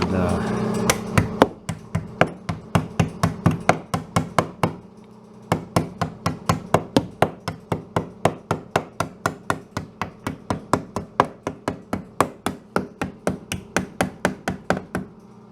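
Rapid, steady body hammer blows ring out on the sheet metal of a 1969 Volkswagen Type 3 Fastback, dozens of sharp metallic taps in a continuous rhythm with a brief pause partway through.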